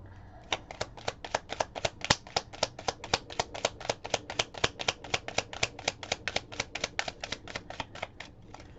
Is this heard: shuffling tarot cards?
yes